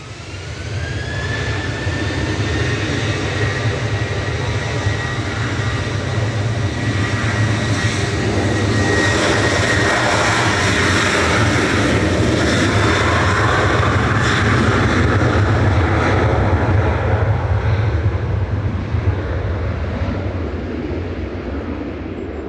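A Ryanair jet airliner taking off from Manchester Airport bound for Faro, a loud sustained jet roar with a high whine at the start, building through the middle and easing slightly toward the end, heard alone.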